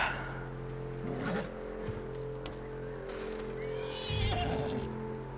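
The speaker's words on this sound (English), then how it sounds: "And that horse looks freaked out" A horse neighs and snorts nervously in Red Dead Redemption 2, with hoof clip-clops and steady low ambient hum in the background.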